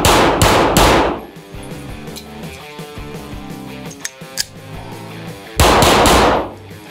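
Polymer80-frame pistol fired in a rapid string of loud close shots, then the clanking and rattling of a reload, then another quick burst of gunfire.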